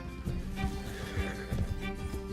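Horse neighing in Red Dead Redemption 2, a close, loud whinny with faint hoof clip-clop beneath it and no talk.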